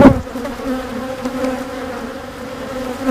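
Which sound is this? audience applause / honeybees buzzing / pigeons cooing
honeybees buzzing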